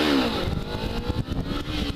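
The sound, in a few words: 2013 Kawasaki Ninja 300 motorcycle revving, tire spin on wheelie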